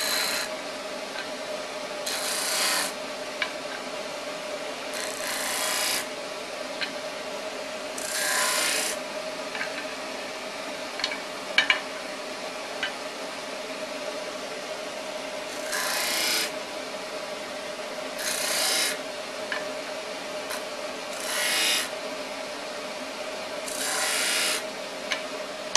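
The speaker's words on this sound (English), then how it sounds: "now we've just sanded these pieces" Repeated rasping strokes of sanding on glued wood segments for a segmented bowl, coming in short bursts every couple of seconds over a steady hum, close and fairly loud, with no talking.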